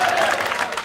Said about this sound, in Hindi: बजा दो ताली धमाकेदार